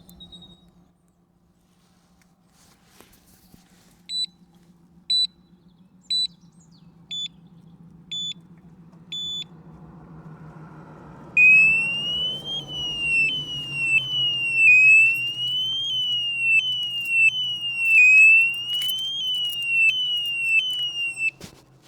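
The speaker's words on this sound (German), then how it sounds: "löse mal den Alarm aus und dann werden wir sehen" A series of short, evenly spaced electronic beeps, then a loud, piercing alarm siren from a Radikal RK14S disc brake lock that warbles up and down rapidly over a low background hum.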